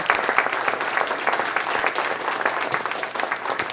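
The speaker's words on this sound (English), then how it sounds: "So everyone, if you could just please give them a round of applause and thank them for leading us in the Pledge of Allegiance." A council meeting audience applauds after the Pledge of Allegiance, producing brisk, continuous clapping of a modest crowd at close range for a few seconds.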